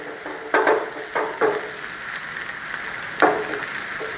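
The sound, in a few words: egg bhurji frying in a pan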